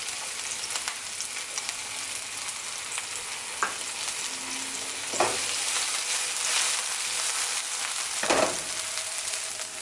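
Diced cured lemon rind with scallions fries in a pan, giving a constant soft sizzle broken by a few sharp spatula scrapes and taps, with no talk.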